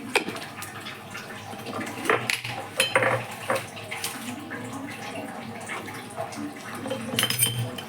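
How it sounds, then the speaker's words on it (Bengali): Black cumin seeds and one dried red chilli tempering in hot oil in a kitchen pan, a steady crackling sizzle with intermittent metallic clinks of utensils and cookware, no voices. "এই কালো জিরা, 1 চামচ কালো জিরা আর একটা শুকনো লঙ্কা আমি ফোড়নে দিয়ে দিলাম।"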